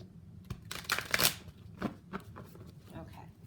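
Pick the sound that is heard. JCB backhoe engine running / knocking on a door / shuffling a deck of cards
shuffling a deck of cards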